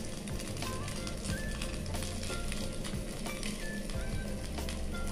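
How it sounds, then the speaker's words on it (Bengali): Four poha (flattened rice) kababs fry in hot oil in a pan after being turned, giving a steady, close, continuous sizzle with no voices. "চারটে কাবাবই উল্টে দিলাম।"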